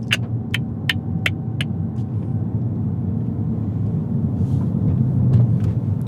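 Honda FL5 Civic Type R fitted with a Hybrid Racing short shifter, driven slowly out of a neighborhood: a steady low engine and road rumble from inside the cabin, with several sharp clicks early on.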